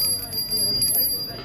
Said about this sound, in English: So to get her attention, we have to ring a bell